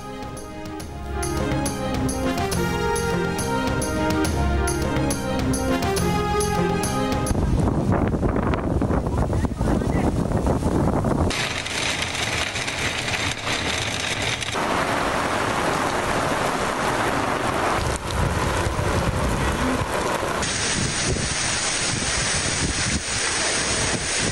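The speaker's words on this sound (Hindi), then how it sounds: "शदीद गर्मी के बाद रावलपिंडी और इस्लामाबाद में तेज़ हवाओं के साथ तूफानी बारिश।" Stormy rain driven by strong winds lashes Rawalpindi and Islamabad after intense heat, a steady loud broadband rush and roar that follows a short stretch of music and changes character across several cuts.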